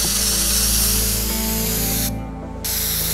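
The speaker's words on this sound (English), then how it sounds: "Let's build a route with the spray paint can." A spray paint can hisses in the video game Teardown, a loud continuous spray with mechanical tonal hum under it, briefly cutting out near the end before resuming.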